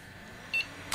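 A single short, high electronic beep from a PC powering on and passing its self-test, faint against a quiet room hum, followed by a brief click.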